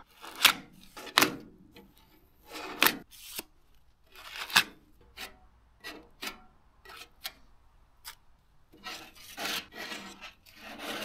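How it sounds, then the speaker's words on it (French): Automotive body filler is spread with a spreader on a Peugeot 205 wing cut for GTI extensions, giving repeated rasping, scraping strokes in an irregular rhythm, close and fairly quiet, with no talk. "Je fais le mastic automobile comme le placo."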